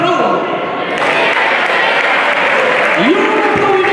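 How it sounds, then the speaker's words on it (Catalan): Crowd at a sports awards night breaking into dense, sustained applause mixed with shouted cheers and voices, loud and continuous throughout. "un aplaudiment i un yeah per Jardineria Palmerol"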